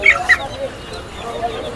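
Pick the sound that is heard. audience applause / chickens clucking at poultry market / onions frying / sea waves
chickens clucking at poultry market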